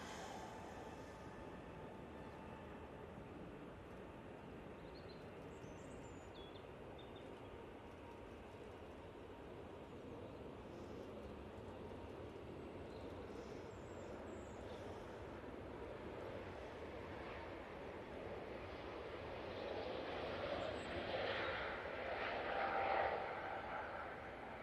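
An airliner begins its takeoff roll at Manchester Airport, a broad distant engine roar that swells steadily and peaks near the end, with no voices.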